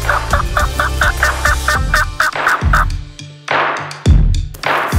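Eastern wild turkeys gobble close by in a wooded forest, a loud rapid rattling burst near the start followed by several more gobbles spaced across the seconds.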